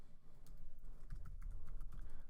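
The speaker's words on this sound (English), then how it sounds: "I'm going to start typing in the notification name" Keys clatter on a computer keyboard as code is entered, a quick irregular run of soft close clicks and taps over a faint room hum.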